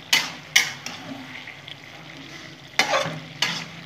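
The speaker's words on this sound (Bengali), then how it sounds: "তার মধ্যে ইলিশ মাছের মাথা দেওয়া হচ্ছে" Hilsa fish head frying with cumin and coriander in a pan, with several sharp bursts of sizzling and stirring over a steady low crackle.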